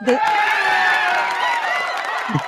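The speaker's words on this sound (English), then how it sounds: "we need that applause again, man" Audience applause and cheering for a newly named port commissioner at a union gathering, a dense sustained wash of clapping and whoops filling the room steadily throughout.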